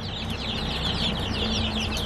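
Red Ranger chicks cheep and cluck steadily throughout, a dense chorus of small peeping calls close by with a constant low hum underneath and no talking.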